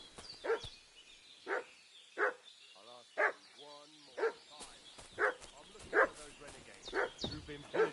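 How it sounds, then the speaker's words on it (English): A dog barks repeatedly in the medieval role-playing game Kingdom Come: Deliverance II, sharp regular barks about once a second at a moderate distance, with a brief murmur of voices in the middle. "What's that dog making such a fuss about?"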